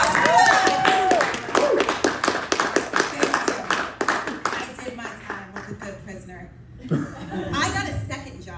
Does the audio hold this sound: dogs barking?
no